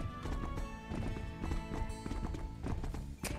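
Horse hooves clip-clopping in the video game Horse Club Adventures, a quick steady rhythm of hoofbeats with horse snorts and whinnies over light background music.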